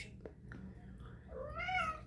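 A cat meows nearby. A few soft, short sounds come first, then one longer rising and falling meow stands out clearly against a quiet room.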